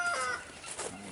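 A single brief rooster call on a Texas ranch, a short clucking crow fairly near and moderately loud, lasting about a second.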